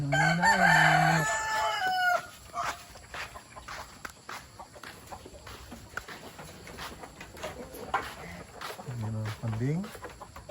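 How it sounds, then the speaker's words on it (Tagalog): A rooster crows loudly up close on a farm with goats, followed by scattered clucks, footsteps and shuffling, then a second shorter crow near the end, with people talking in between. "Nanginginain ng manok."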